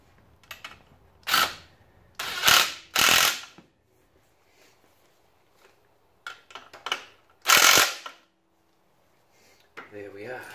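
Impact drill driving exhaust bolts on a 50cc kids' pit bike, in several short loud bursts of whirring and rattling hammering separated by pauses and faint handling noises.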